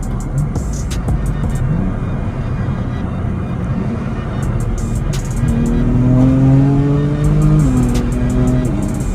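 Car accelerating hard at a drag strip with a dual-clutch transmission, a loud rising engine roar that climbs through several gear changes, with sharp crackles and pops over crowd and track background noise.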